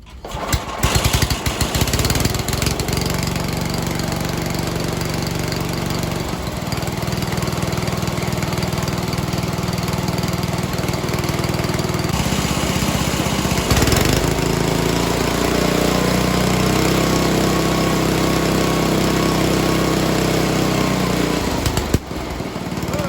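A Toro 726 two-stage snow blower, model 31760, runs with a loud, steady engine drone and chugging throb that barely varies, briefly dipping once before carrying on.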